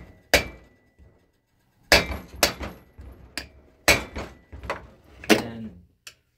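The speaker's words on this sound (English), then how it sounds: "You can actually hit that with a hammer, which is nice. And it drives into the screw." Several sharp metallic hammer strikes on the metal end of an impact screwdriver driving into a screw on a Kawasaki KV75/MT1 motorcycle, spaced irregularly with short pauses, close and loud with a bright clanking ring.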